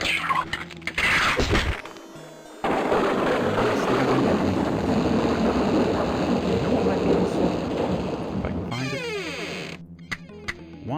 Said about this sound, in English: Let's shoot a lightning bolt down this way.